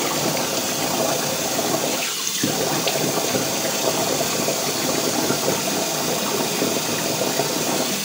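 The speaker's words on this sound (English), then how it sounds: "So I wash up my face with cold water." Cold water runs steadily from a tap into a sink for washing the face after a shave, a continuous close hiss and splash with a short break partway through.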